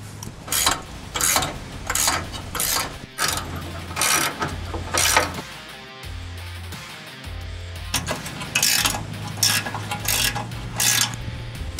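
A ratchet tightens bolts on Westin HDX drop nerf step bars on a truck, with bursts of fast close clicking strokes broken by brief pauses and no talk.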